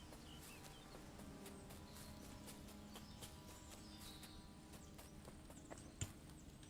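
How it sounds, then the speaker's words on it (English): Horse hooves clip-clop at a walking pace in Kingdom Come: Deliverance II, a steady quiet rhythm under faint birdsong and outdoor ambience in a medieval town street near an old oak. "Aqui o cavalo."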